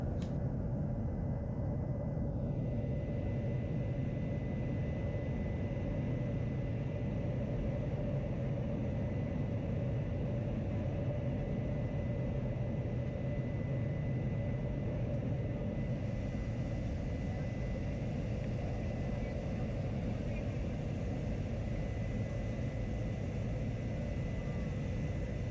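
Small airplane in flight to San Pedro, Belize, heard from inside the cabin: a steady, loud droning engine and broadband rumble that continues unbroken throughout, with no talking.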